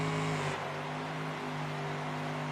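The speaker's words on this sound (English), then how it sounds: "Running 3 big block Chevys on the front of this tractor." Unlimited class pulling tractor running three big block Chevy engines at a stadium tractor pull, a steady, heavy engine roar with a sustained droning tone that drops slightly in pitch early on, then continues evenly.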